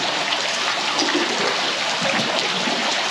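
Water pours steadily from a waterfall off a double iceberg in Alaska, a loud, continuous rushing splash heard up close.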